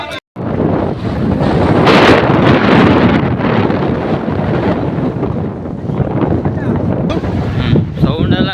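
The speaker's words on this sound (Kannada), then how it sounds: "ಸೌಂಡ್ ಅಲ್ಲ, ಗಾಳಿದು ಸೌಂಡ್ ಕಣ" Strong wind buffets the microphone in loud, continuous roaring gusts beside Ayyanakere lake, where a bridge lies submerged, briefly cutting out at the start and then rumbling steadily throughout.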